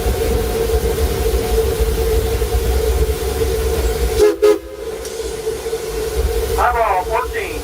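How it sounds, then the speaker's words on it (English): A steam locomotive at the Silver Dollar City roundhouse blasts soot out of its smokestack with a loud, sustained roaring hiss and steady tonal hum, briefly interrupted, then resuming with short whistle-like chirps near the end. "they fire the engine up really good and blow all of that out of the smokestack and clear it from the engine"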